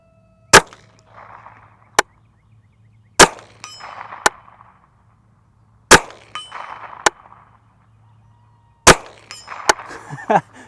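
A Henry U.S. Survival Rifle fires four sharp, loud shots at a distant steel target, spaced a few seconds apart, most answered a moment later by a ringing metallic clang; a faint voice murmurs between shots.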